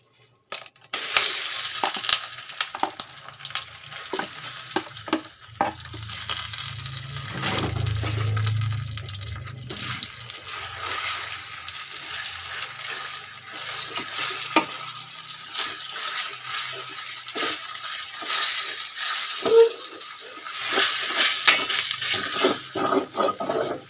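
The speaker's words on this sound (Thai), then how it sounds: "พี่หอมจะเอากระเทียมเจียวลงไปผัดนิดนึง หอมๆนะคะ แล้วก็เราจะใส่หมูหมักลงไปเลย" Marinated pork and fried garlic being stir-fried in oil in a pan, with continuous sizzling and scraping spatula strokes and occasional clinks of metal, close and steady throughout.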